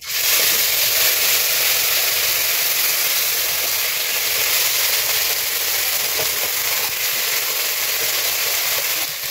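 Panch phoron whole spices, two dried red chillies and a bay leaf sizzle in hot oil for a Bengali dal tempering. The crackling hiss is loud, dense and continuous throughout, with no voices.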